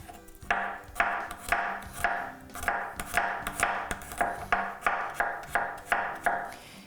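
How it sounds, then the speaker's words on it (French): Knife chopping garlic cloves on a cutting board for rice, about a dozen evenly spaced, crisp, close-up chops in a steady rhythm, with no voices. "Juste les hacher comme ça."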